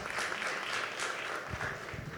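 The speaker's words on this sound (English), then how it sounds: "Applause, applause." Applause from an audience at a startup showcase event, a continuous, fairly soft patter of many hands clapping in a large room.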